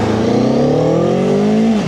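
Cyclone RC600 motorcycle engine, a 186-kilogram bike with a steel frame, revving loudly and steadily up close, its deep rumbling pitch rising then dropping off near the end.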